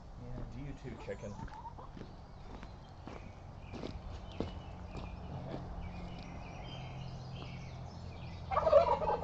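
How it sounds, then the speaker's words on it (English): Turkey and chicken near a garden path, with scattered clucks and gobbling calls over footsteps and rustling outdoors, growing louder near the end. "There's a chicken and a turkey trying to make their way into the garden"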